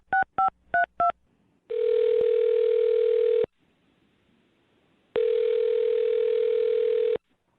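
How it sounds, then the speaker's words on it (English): A telephone number is dialed with four quick touch-tone beeps, followed by two long, steady ringback tones separated by a pause, clear and close. "I'm dialing her phone number right now."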